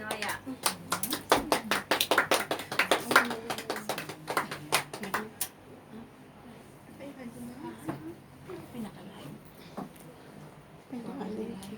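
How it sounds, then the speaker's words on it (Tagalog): A church congregation at a Filipino worship service claps in a lively burst of loud, scattered applause, which fades out after a few seconds as a voice begins speaking over the room. "palakpak naman sa Lord"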